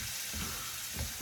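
Red and green bell peppers frying in a hot pan for ratatouille, giving a steady close sizzle with faint stirring noises throughout.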